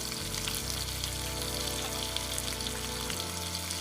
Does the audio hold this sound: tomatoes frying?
yes